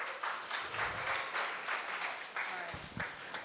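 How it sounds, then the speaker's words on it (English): Audience applause at a hackathon opening ceremony, a steady wash of clapping for about three seconds with a few louder bursts and some voices mixed in. "Round of applause for Jake."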